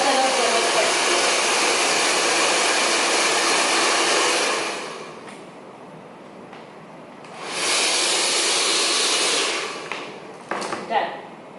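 A hair dryer blows hair while it is styled with a brush, a loud steady roar that drops to a quieter hum midway, then surges back before cutting out near the end.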